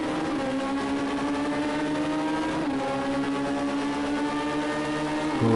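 Race car engine in Project Cars 2, heard from on board, holding a loud, steady high-pitched howl that shifts pitch with gear changes and throttle, close and continuous throughout with no talk.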